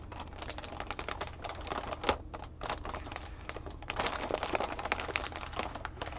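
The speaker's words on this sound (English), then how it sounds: "This little thin piece of plastic up here makes some good sounds on its own." A thin piece of plastic is crinkled up close, producing dense, continuous crackling and crisp snaps in quick irregular bursts, with a brief lull around the middle.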